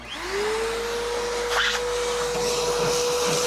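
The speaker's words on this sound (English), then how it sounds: "Let's vacuum." A vacuum cleaner switches on and runs, its motor rising quickly to a loud, steady whine with a constant airy roar and some brief rattling as it picks up dust.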